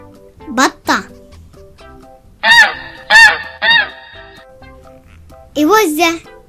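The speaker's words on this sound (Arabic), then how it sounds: "إوزة." A goose honks in several close, sharp bursts, clustered in short groups over soft background music.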